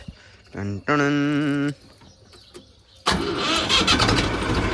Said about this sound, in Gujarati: ટ્રેક્ટર ચાલુ કરીને ટ્રેક્ટરને પહેલા થોડુંક પાછું પાડી લઈએ